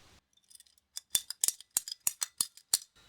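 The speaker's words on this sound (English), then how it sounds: "a pair of pipe cutters ends up leaving you a really clean cut on your poly pipe" Pipe cutters biting through poly water pipe: a quick series of about ten sharp, crisp crunching snips in an uneven rhythm, close and clear against near silence.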